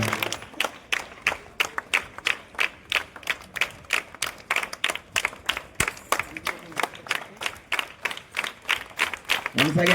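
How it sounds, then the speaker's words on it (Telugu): An audience at a government high school distribution event claps together in a steady, rhythmic beat for about ten seconds, close and loud, with faint voices underneath. "అందరూ కూడా ఒకసారి గట్టిగా చప్పట్లు"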